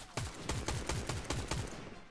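Rapid automatic gunfire in the battle royale game Fortnite, a rhythmic volley of about ten evenly spaced sharp shots over two seconds, steady and moderately close against game ambience, with no speech.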